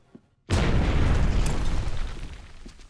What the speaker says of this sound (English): Now we gotta blow a hole in it.